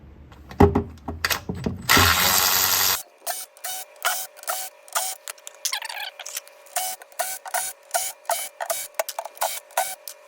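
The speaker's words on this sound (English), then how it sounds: "let's get started on removing these here bolts" Ratchet wrench loosening bolts on a first-generation Audi R8 during a heater valve replacement: a brief burst of hiss, then a long run of sharp, rhythmic clicking strokes, close and distinct.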